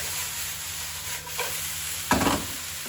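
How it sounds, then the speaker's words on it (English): Vegetables stir-fry in a hot pan for salt and pepper chips, a steady close sizzle with a couple of scraping stirs, the louder toss near the end. "Now it's the right time to add the rest of the vegetables and mix for another minute"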